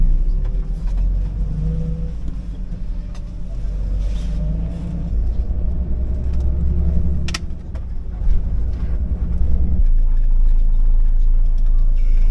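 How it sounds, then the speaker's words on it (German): A Flixbus long-distance coach pulls in at a stop in Italy, its deep engine rumble steady and loud throughout, with voices talking over it and a brief sharp clatter near the middle. "So, hier, der Flixbus kommt."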